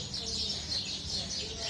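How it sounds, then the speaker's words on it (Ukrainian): Birds chirp and tweet in a steady high twittering at a resort in Zanzibar, moderately near, over a low background rumble. "Ось як пташки співають"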